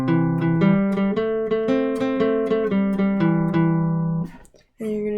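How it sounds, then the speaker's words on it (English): Pick-strummed guitar notes on a simple song, each note struck down then up in a steady rapid rhythm, ringing clearly and close, with a brief gap near the end before the strumming resumes. "if you're using a pick, you're just gonna strum down and then up on every single note."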